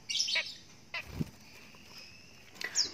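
A female cucak jenggot songbird gives a few short, high chirping calls in quick bursts, fairly faint against a quiet background.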